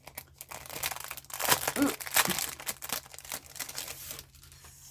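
Crinkling, tearing plastic packaging is pulled off a Victorian craft pack, a busy close run of rustles and crackles with a brief murmured exclamation partway through.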